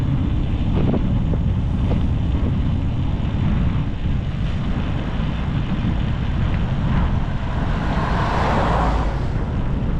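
Strong wind buffets the microphone in a constant roaring rush, with a brief brighter whoosh near the end.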